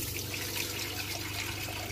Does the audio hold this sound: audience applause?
no